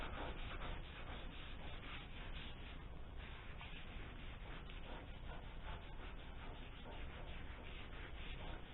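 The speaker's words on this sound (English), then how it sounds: "I have distilled vinegar in the holding handle here, so and it dispenses it as I scrub." A scrub brush with distilled vinegar dispensing from its handle scrubs rust off a used table saw, giving a steady, close, rhythmic rasping rub that continues without pause.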